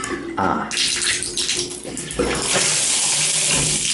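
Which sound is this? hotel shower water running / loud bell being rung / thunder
hotel shower water running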